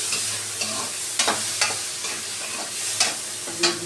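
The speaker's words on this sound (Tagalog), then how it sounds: "Lagay na natin yung ating pork." Pork stirred in a hot pan of sizzling oil with tomato, a steady close fry broken by several sharp scraping strokes of the spatula across the pan.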